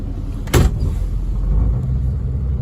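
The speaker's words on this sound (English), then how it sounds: "go for a ride in my sweet little 65 Mustang Convertible." Steady low rumble of a 1965 Ford Mustang convertible with automatic transmission cruising along, with a brief louder thump near the start.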